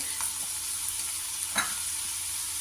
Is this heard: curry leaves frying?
yes